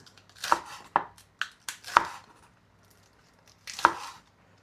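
A knife slices green onions (scallions) on a cutting board, about six crisp, close chops in an uneven rhythm with a short pause before the last one.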